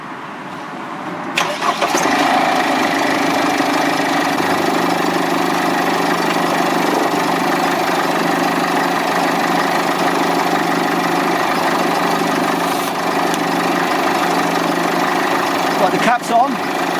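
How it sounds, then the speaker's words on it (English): A Mercedes W211 E-Class engine cranking and catching, then settling into a steady, even idle that continues unbroken at close range for the rest of the stretch, with faint clicks near the end. "I need to start the engine"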